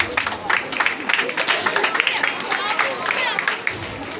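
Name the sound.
audience applause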